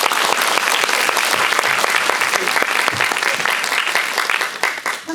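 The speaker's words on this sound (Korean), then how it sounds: "이번엔 임수정님께 큰 박수 부탁드립니다." Audience applause at a Busan International Film Festival anniversary guest-visit screening of the Korean horror film A Tale of Two Sisters, steady, dense clapping from a large crowd that fills the whole stretch without a break.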